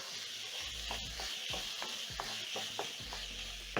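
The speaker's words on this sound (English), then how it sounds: "Stir in the carrots." Carrots are stirred into minced meat browning in a pan for spaghetti bolognese, with a steady sizzle underneath and a regular series of spoon scrapes, about one every half second, close and moderately loud.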